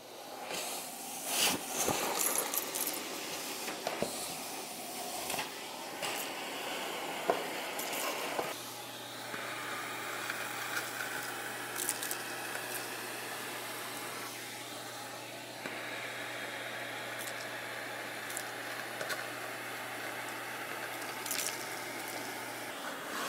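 A Vacumaid UV100/UV150 wall-mount central vacuum in a garage sucks up gravel and dirt from the floor, with a steady hissing airflow, rattling debris early on and a constant low motor hum through the rest.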